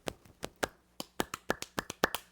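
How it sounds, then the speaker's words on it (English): Hand claps in a drummer's clap rhythm, crisp close taps in an uneven syncopated pattern of about a dozen hits, fairly quiet with no talking over them. "You can even teach him, the drummer's clap."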